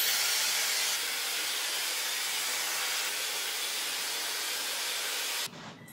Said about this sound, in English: How cute is this color shark? First, I just do a rough dry all over.